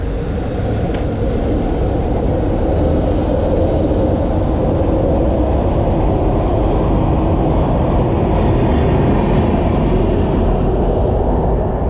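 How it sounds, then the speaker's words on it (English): A MARTA metro train headed towards the airport rumbles steadily and loudly as it pulls into the station, a continuous low roar with faint high squealing. "there you see the MARTA train coming in"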